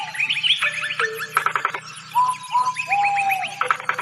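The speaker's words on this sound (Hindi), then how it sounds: "चिड़ियों के ध्वनि से क्या मिलता है।" Several birds chirp and sing close by, with clear whistled notes, quick trills and repeated tweets overlapping in lively phrases over a faint low hum.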